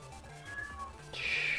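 A cat meows during a Mega Man Battle Network 2 game session, a short rising cry near the end after softer game sounds, fairly close and alone without talk.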